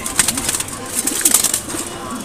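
Two pigeons coo in quick, repeated throaty bursts close by, with sharp scuffling and wing noise as they fight among a loft flock.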